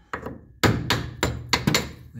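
Several sharp metallic hammer blows strike a part of a 440 engine being removed, landing in quick, uneven succession, loud and close, each ringing briefly.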